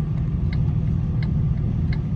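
A truck engine rumbles low and steady at idle while parking, with faint periodic higher ticks recurring about every 0.7 seconds.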